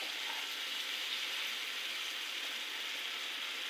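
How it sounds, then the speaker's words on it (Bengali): Fish pieces frying gently in a watered-down spice paste, giving a soft, steady, even sizzle throughout, fairly quiet and uninterrupted, with no voices. "আমি মাছগুলি অ্যাড করলাম মশলার মধ্যে, এইভাবে আলতো করে ভেজে নিচ্ছি"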